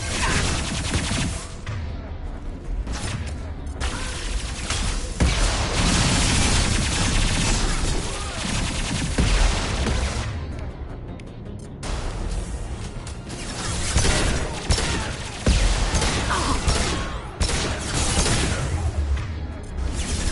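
Gunfire from a firefight in the Mass Effect 2 game, with dense, sustained bursts, crashes and whooshes running loud and nearly nonstop, with short lulls between volleys.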